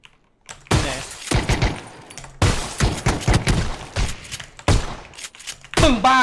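Pistol gunfire in PUBG: loud, sharp shots in rapid clusters with short gaps of quiet between bursts, close and punchy.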